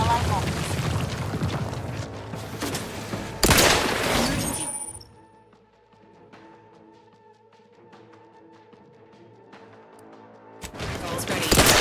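Bursts of rifle fire from a hostile in The Outer Worlds 2 crack in loud, dense volleys at the start and again at the end, separated by a quieter stretch of game ambience.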